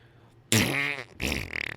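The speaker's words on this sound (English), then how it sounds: "And farts." A loud, buzzy fart ripping out for about half a second, a short pause, then a second fluttering burst that sputters out in quick pulses.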